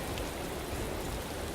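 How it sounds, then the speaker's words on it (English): Steady rain hisses across a race day in the Motorsport Manager game, a dense, even wash of noise with no voices over it. "It is race day and it's raining."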